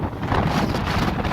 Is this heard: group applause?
no